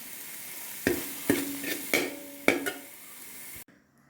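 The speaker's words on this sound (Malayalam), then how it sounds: "രണ്ട് മിനിറ്റ് നേരം നല്ലതുപോലെ ഇളക്കി ഇപ്പം ലോ ഫ്ലെയിമിൽ വെച്ച് കഴിഞ്ഞാൽ ആ മസാലയെല്ലാം ഈ മുട്ടയിലോട്ട് യോജിക്കും" A spatula stirs masala into eggs frying on a low flame for egg biryani: four or five sharp scraping strokes over a soft, steady sizzle, ending abruptly.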